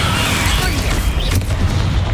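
A Confringo spell explodes in the video game Hogwarts Legacy: a loud, dense booming blast with a rumbling, crackling tail filling the whole short moment.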